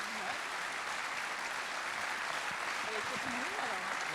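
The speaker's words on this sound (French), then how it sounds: "C'est le moment de le recevoir sous vos applaudissements, s'il vous plaît." Continuous dense applause fills a hall at a business awards ceremony in Saône-et-Loire, steady and loud throughout, with voices faintly audible underneath.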